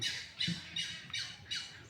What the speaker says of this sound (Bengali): বক পাখির ডাক শুনতে পেলেন আপনারা